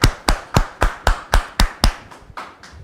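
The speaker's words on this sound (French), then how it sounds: "Merci de les recevoir sous vos applaudissements." Clapping welcomes a guest at a French-language talk show, about ten loud, evenly spaced claps in a steady rhythm that soften and fade toward the end.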